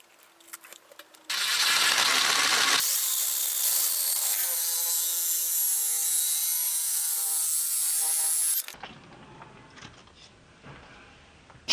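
An inside pipe cutter spins inside a PVC/ABS drain pipe, a loud steady grinding buzz that runs for about seven seconds and then cuts off abruptly to quieter handling noise.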